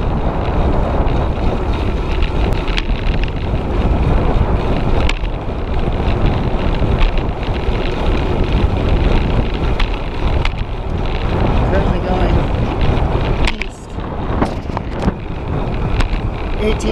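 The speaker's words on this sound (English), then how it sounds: "Wind speed's 13 miles from the north." Steady, roaring wind buffets the microphone during a bike trail ride on a breezy north-wind day, loud and continuous, with a brief dip near the end.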